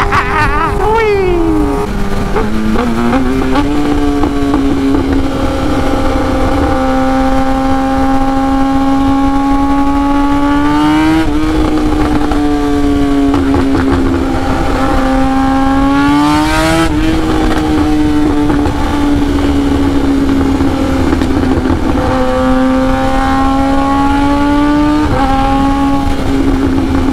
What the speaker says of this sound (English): sound of this bike never gets old. Oh man, so loud, so obnoxious.